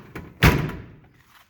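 The rear door of a Polaris Ranger swings shut with a single solid slam, a short, close thud that fades quickly into quiet.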